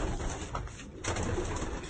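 A grizzle cock pigeon at a pigeon show coos softly in short low murmurs over faint background noise.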